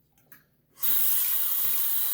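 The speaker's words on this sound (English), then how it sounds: "I'm gonna go ahead and rinse off." After a brief quiet moment, a faucet turns on and water pours steadily into a sink, a loud, constant splashing rush.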